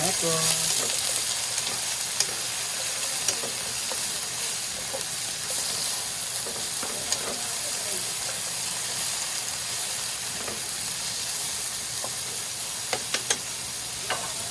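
Pakbet vegetables seasoned with pepper powder sizzle loudly and steadily in a pan, a dense, continuous frying hiss with small pops and stirring scrapes throughout, close and with no talking.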